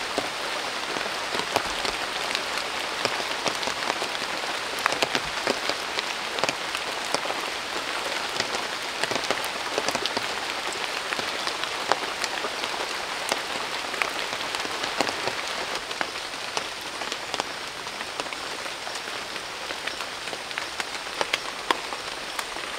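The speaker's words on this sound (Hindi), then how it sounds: "फाइनली रेन आ गया" Steady rain falls through an evergreen forest in Nagaland and patters on a tarpaulin and the surrounding surfaces, forming a dense, even hiss of drops that continues without a break.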